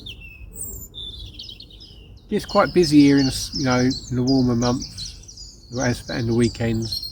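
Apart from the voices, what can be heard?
birds singing in the morning at a fishery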